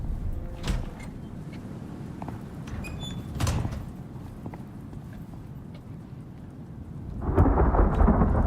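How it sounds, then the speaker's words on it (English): A thunderstorm rolls through in the game Icarus, with steady rain hissing throughout, sharp cracks and rumbles of thunder, and the downpour swelling louder toward the end. "Storms rolling through."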